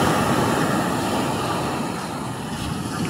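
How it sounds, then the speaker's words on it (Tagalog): Steady, loud roar of rough surf with constant broadband wash and no clear breaks, like heavy waves crashing nearby. "Malakas pa niya alon"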